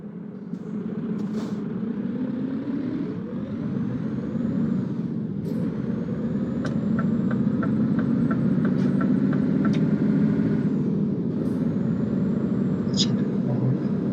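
A truck in Euro Truck Simulator 2 drives along a road, its engine drone steady and slowly rising in pitch, with a few short hissing air-brake bursts over the top.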